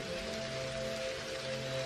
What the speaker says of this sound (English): Now just enjoy the sound of the rain and the feeling of tranquility